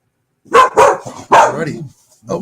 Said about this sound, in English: one of the kids walked past it, and the dog barks every time